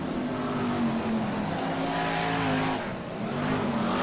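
BriSCA Formula 1 stock cars race at Kings Lynn in 1995, a dense, sustained roar of several engines heard from trackside, revving and droning together with a brief dip near the end.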